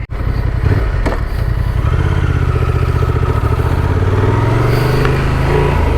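A Honda Transalp XL750 adventure motorcycle rides a rough dirt track, its engine droning loud and close with shifting revs and a steady throbbing pulse, accompanied by rattling clatter from the bumpy ground.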